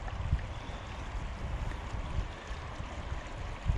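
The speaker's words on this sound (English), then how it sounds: "You can see the water flowing down into the creek." Spring water flows down into a creek outdoors, with a steady, moderately quiet rush of running water and broadband noise throughout.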